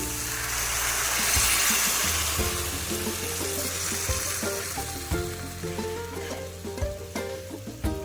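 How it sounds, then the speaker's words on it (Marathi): Hot water goes into a frying sprouted moth bean curry, a loud rush and hiss over the sizzle that settles into bubbling, frying and the scrape of a spoon, close and with no talk. "आता मी यामध्ये घालते पाणी"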